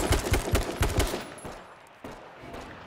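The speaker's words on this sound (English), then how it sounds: "That's you shooting outside?" Rapid gunfire outside in a video game, a quick burst of sharp, loud shots in steady rhythm for about a second, then a couple of fainter scattered shots trailing off.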